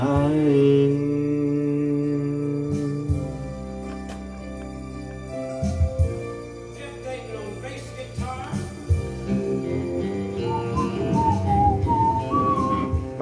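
Someone whistles a melody, clear and close, with sustained notes and quick runs, over a soft instrumental backing.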